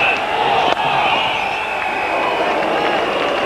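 A packed stadium crowd at the 1999 Cricket World Cup match between India and Australia lets out a sustained, loud roar and murmur that stays steady and continuous throughout.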